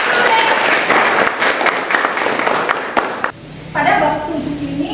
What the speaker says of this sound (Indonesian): kita beri aplaus dulu kepada Putri, Cantika, sama Farhan